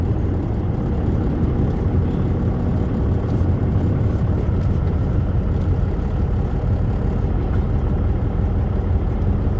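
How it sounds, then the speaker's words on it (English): A semi truck's engine rumbles low and steady while it backs uphill to hook up a trailer, with a continuous loud drone and no talking. "Now you got to back uphill to get the trailer."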